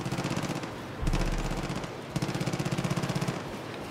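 Rapid automatic gunfire from the video game Far Cry 5, with two sustained bursts of machine-gun style shots close and loud, separated by a brief heavier rumble.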